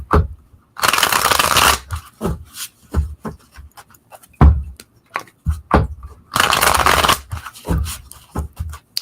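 Tarot cards being shuffled by hand, two long bursts of riffling and rubbing with scattered short card taps and flicks in between, close and fairly loud.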